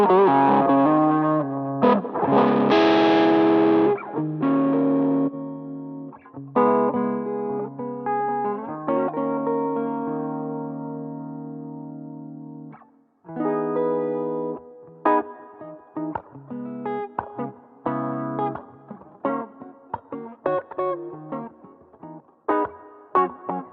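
Electric guitar through a Mooer Micro Preamp 2-Rock pedal: distorted chords and riffs with sustained ringing notes, pauses and choppy muted passages, played alone with a touch of reverb.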